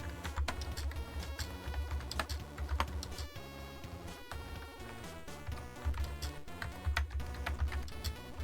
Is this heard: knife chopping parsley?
no